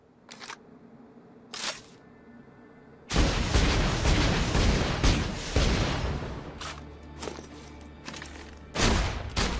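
Rapid gunfire in Borderlands 2 strikes an enemy's shield, with dense bursts of shots and impacts following a few sharp earlier cracks, loud and close throughout.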